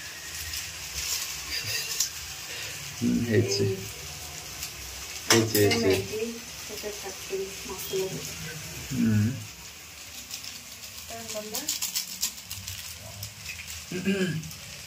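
Masala Maggi noodles cooking in a pan, with a low sizzle and repeated clinks and scrapes of a spoon against the pan, while people talk intermittently over the cooking.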